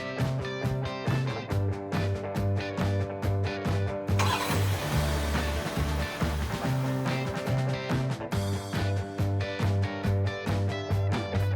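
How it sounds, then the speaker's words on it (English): A Volkswagen engine starts remotely through the myVW app, a short noisy crank and catch near the middle set against steady background music. "When the vehicle has been started remotely"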